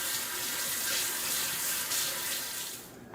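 Water runs steadily from a faucet, splashing over a fermenting packing tool being washed in a sink before pickle-making, then cuts off near the end.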